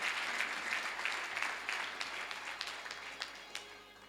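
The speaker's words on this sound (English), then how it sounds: "Let's clap hands for her." Church congregation at a Sunday service clapping hands together, a soft, fairly distant patter of many hands with a low hum underneath, tapering gradually over a few seconds.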